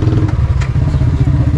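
A motorcycle engine idles close by as the bike is parked outside Neemrana stepwell in Rajasthan, a loud, steady low rumble with a faint mechanical clatter throughout.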